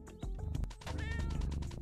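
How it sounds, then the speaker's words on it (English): A cat meows repeatedly in a quick, close series of calls over a steady low background, loud and alone without any talk. "I am back, Mr. Kitty Cat."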